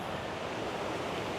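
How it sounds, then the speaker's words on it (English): A waterfall in Dartmoor's ancient woodland near Black Tor Copse gives off a steady rushing hiss of falling water. It sounds moderately distant and is heard alone without speech. "take a photo of that waterfall down there"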